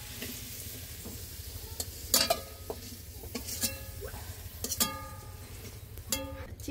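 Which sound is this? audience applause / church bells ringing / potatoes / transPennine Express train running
potatoes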